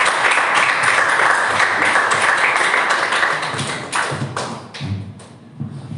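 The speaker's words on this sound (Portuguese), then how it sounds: "As palmas louvem e exaltem o Senhor." Worshippers in a church service clap in praise, a loud, dense burst of many hands that thins out toward the end into scattered, separate claps and a few thumps.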